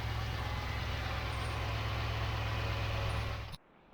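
A truck engine idles steadily up close with a deep, even rumble, then abruptly cuts off just before the end.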